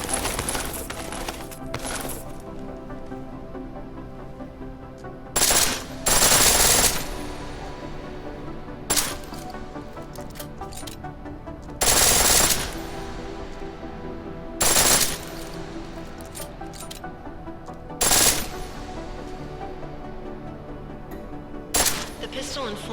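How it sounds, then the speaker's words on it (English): Short sharp bursts of full-automatic pistol fire in Deus Ex: Mankind Divided, about seven rapid volleys spaced a few seconds apart over a low, steady game background hum. "The pistol in full auto will take down targets fast, but it'll burn through your ammo."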